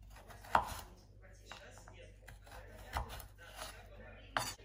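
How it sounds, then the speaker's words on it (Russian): A knife chops a carrot into julienne strips on a cutting board in a home kitchen, giving a few sharp, irregular knocks separated by quieter scraping, close and fairly soft, with no speech. "Морковь мы нарежем соломкой."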